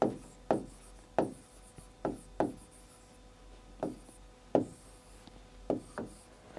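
Chalk or marker strikes a board in short, sharp taps and strokes, about a dozen spaced irregularly. The marks are close and distinct, with quiet gaps between them and no voice.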